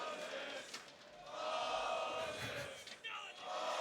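Crowd at the IEM Chicago 2019 CS:GO grand final between Team Liquid and ENCE on Inferno, roaring and cheering in an esports arena, a sustained loud mass of voices with a brief dip near the end.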